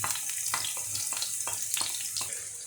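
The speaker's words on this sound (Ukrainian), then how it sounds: "Так, друзі, смажимо цибульку на засмажку." Steady frying sizzle of onion in a pan with sunflower oil and butter, a continuous hiss with small pops and crackles at intervals, no voices.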